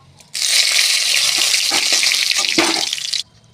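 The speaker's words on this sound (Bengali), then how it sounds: "বন্ধুরা তেল গরম হয়ে গেছে, দিয়ে দেব শুকনো লঙ্কা। তারপর দিয়ে দেব 3টে তেজপাতা।" Dry red chillies and three bay leaves dropped into hot oil in a kadai burst into a loud, dense sizzle that holds steady for nearly three seconds before cutting off abruptly, with a few faint stirring clinks underneath.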